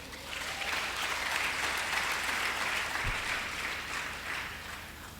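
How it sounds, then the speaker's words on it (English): An audience claps at a university inaugural lecture in Ibadan, a dense, sustained round of applause filling the hall evenly and loudly throughout, with no talking on top. "I thought the clap would be long"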